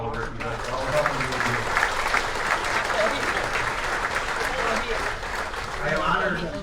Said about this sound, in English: we can all give him a nice hand of round of applause